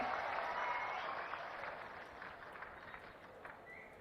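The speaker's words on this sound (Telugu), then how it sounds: "గట్టిగా చప్పట్లు కొట్టి వాళ్ళని కూడా మీరు అభినందించాలి." Audience at a Swachh Andhra public event clapping steadily in a dense, continuous wash of applause that slowly fades, heard from a distance without talk.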